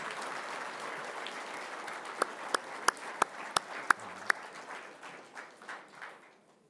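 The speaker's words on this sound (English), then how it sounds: "Let's have another round of applause for the 93-94 team." An audience applauds at a university hall of fame ceremony: steady, even clapping from a large crowd, with a few louder individual claps standing out midway before the applause tapers off toward the end.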